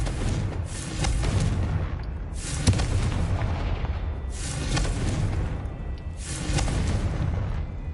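Confringo blasting spell cast in Hogwarts Legacy on PS5, four loud booming explosions spaced about two seconds apart, each a sharp burst that rolls into a rumbling tail, with no talking.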